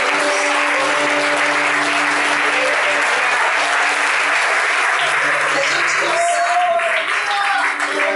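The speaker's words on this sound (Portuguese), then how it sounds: "Aplauda o Senhor." A church congregation applauds loudly and steadily, a dense continuous wash of clapping with a voice faintly audible beneath it.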